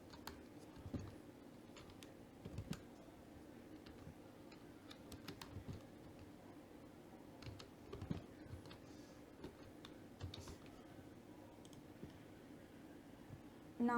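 Faint, irregular taps and clicks from typing on a computer keyboard, scattered keystrokes with short pauses over a low room hum, with no voices.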